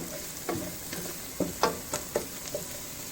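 Garlic and red chili flakes sizzle in a pan, a soft frying hiss broken by several light scraping stirs and faint ticks, close and quiet.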